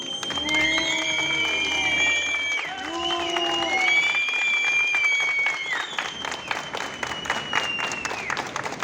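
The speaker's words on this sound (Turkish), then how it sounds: "Onları bir kere daha buradan astık olmuşluklarımızla, alkışlarımızla protesto ediyoruz." Protesters gathered for a press statement outside the PTT General Directorate headquarters break into applause, a dense patter of clapping that builds in the latter half beneath raised voices and sustained whistle-like tones.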